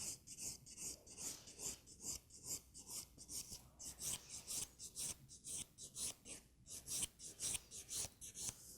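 A nail file rasping steadily across an acrylic nail in long, even back-and-forth strokes, about two per second, close and quiet with no voices.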